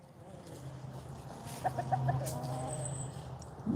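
Backyard roosters and hens cluck and squawk close by in a run of short, rising calls over a low steady background.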